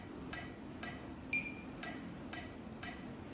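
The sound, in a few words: metronome click track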